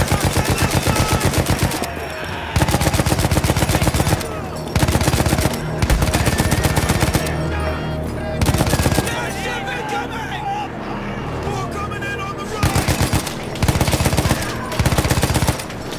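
Machine-gun fire in Battlefield 1 during a 1918 battle in France, loud rapid bursts repeating in regular clusters with short pauses between, under shouting voices and battlefield noise.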